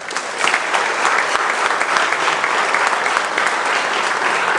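An audience at an annual meeting applauds the evening's sponsors, a dense, steady wash of many hands clapping close and loud throughout, with no talk over it.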